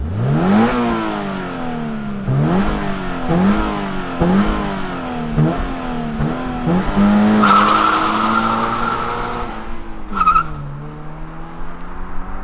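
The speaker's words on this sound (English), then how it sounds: "let's fire this up and see it move" A 2025 Toyota GR86 Hakone Edition sports car accelerates hard through repeated rising gear pulls, engine revving loudly up close, then eases off with a short tire squeal near the end.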